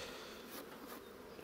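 Honeybees buzz steadily around hive frames as a beekeeper brushes them off, a dense close swarm hum with no voices.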